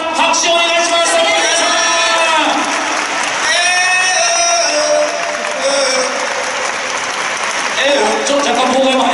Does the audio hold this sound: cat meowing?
no